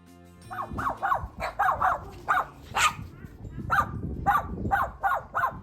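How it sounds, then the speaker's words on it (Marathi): Two neighbourhood dogs bark outside in the snow, a steady series of sharp, mid-distance woofs in irregular bursts, one after another across the whole stretch, with no talking over them. "आमचा आवाज ऐकून शेजाऱ्यांची दोन कुत्री बाहेर आली आणि क्युरियसली ती आमच्याकडे पाहत होती"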